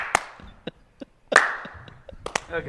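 Several sharp, separate hand claps ring out at uneven intervals, close and fairly loud, with a brief murmur of casual talk in between.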